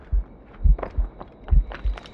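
Slow, heavy heartbeat thumps from the video game Assassin's Creed Rogue while the character is poisoned, about five deep low pulses in two seconds, loud and alone without talk.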